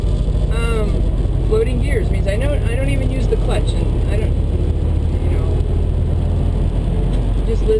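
A Freightliner Cascadia truck engine drones loud and steady from inside the cab as the driver floats gears without the clutch, a low rumble that persists throughout, with someone talking over it.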